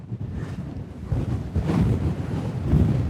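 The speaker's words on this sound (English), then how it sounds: "It's a bit windy, isn't it?" Wind buffeting a microphone outdoors on the island of Iona, a steady low rumble that swells and gusts louder toward the end, with no talking.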